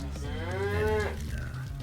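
A single drawn-out cow moo, fairly close and clear, rising and then trailing off over about a second and a half.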